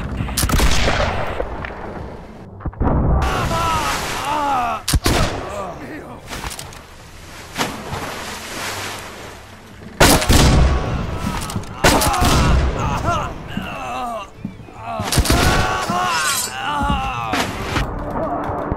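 Ship cannons loaded with grapples fire in the Blackwake naval battle game, a series of loud booming blasts in irregular bursts, mixed with crew voices talking over the gunfire.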